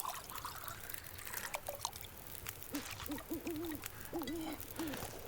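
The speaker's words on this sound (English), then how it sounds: "I love to hear the birds, like that owl" Soft repeated owl hoots in a gentle rhythm in The Long Dark video game, over a trickle of flowing water and light ambient clicks.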